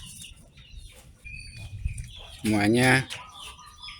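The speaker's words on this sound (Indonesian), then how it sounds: "ini yang disebut ayam Arab" Arab chickens cluck and call in a farm setting, with scattered soft clucks and one loud drawn-out squawk near the middle, and a brief spoken word in the background.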